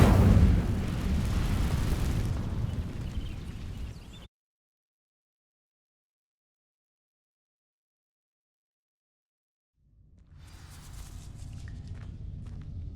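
In Hogwarts Legacy, an Incendio fire spell ignites dry vines with a loud roaring burst that fades over a few seconds. Complete silence follows, then a quieter crackling rumble returns.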